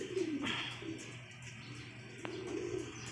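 Racing pigeons coo softly in a few low calls at close range, with faint outdoor background and an occasional light chirp.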